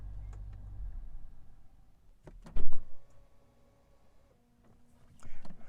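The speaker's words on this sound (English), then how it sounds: "you'll see the steering wheel move when I turn off the car" The electric steering column of a 2020 BMW X5 xDrive40i M Sport retracting after the engine is switched off: a couple of clicks followed by a quiet motor whir, with a faint thump at the end.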